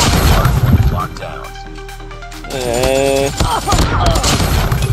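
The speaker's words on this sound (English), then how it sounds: "Look at that shots, bro. There's zero recoil on this gun" Rapid bursts of AK-47 gunfire in a first-person shooter match on the Nuke map, loud and close, with a brief lull in the middle while a voice talks over the shooting.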